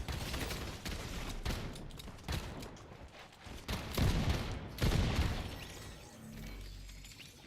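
Fortnite gunfire in a rapid, dense run of loud shots, with several bursts overlapping and a few harder bangs near the middle, then fading to quieter game sounds at the end.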